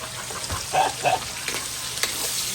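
Beans and carrots frying in a pan, a steady sizzle with a few louder stirring scrapes and bumps spread through, no talking.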